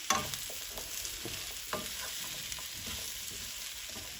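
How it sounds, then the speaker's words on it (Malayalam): Pumpkin pieces sautéing with spice powders and crushed black pepper in a pan for a Kerala mezhukkupuratti, with a steady soft sizzle broken by repeated scraping stirs, close and moderately quiet, no talking. "ഇതെല്ലാം ഒന്ന് വഴറ്റിയെടുക്കാം."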